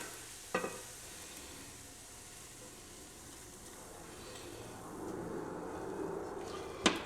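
A meatloaf mixture with ketchup sizzles in a frying pan with a steady, quiet frying hiss, broken by a sharp utensil clank near the start and another at the end.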